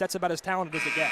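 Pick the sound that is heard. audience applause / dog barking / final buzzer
final buzzer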